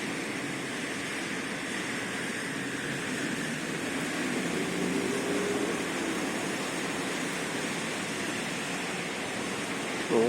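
Rainwater rushes down Gubin Street in Yakutsk, flooded like a river after a full day of spring rain, a steady broadband wash of flowing water running unbroken and fairly loud throughout.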